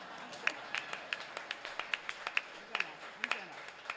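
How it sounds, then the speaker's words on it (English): An audience at a Democratic governor's forum claps: a short run of distinct, sharp individual claps in an irregular rhythm, moderately close in a quiet room. "You can clap for that"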